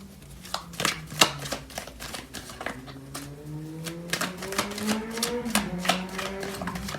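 Tarot cards being shuffled and pulled, a series of quick crisp slaps and flicks in an irregular rhythm, close and fairly quiet, with a faint voice murmuring underneath.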